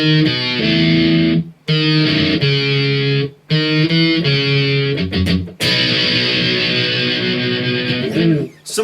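Distorted electric guitar chugs through a punk-rock song from an album, loud power chords in sustained bursts broken by brief stops.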